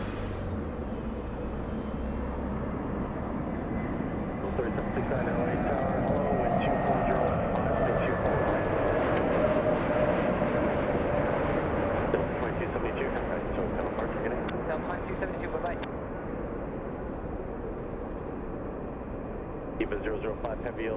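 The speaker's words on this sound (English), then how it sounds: "Next arrival we have is United Airlines 405 flying in from Denver" A United Airlines airliner arriving from Denver at Los Angeles, a broad jet engine roar that swells and lingers for about twenty seconds at steady loudness, with a rising whine and talk running over it.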